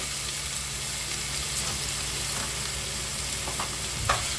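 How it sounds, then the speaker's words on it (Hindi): Onions frying in a tablespoon of oil in a pan, a dense, even crackling sizzle held close and loud for the whole stretch, with a few light clinks of a spoon near the end. "1 टेबल स्पून तेल डाल दिए, इसके अंदर प्याज डाल देंगे"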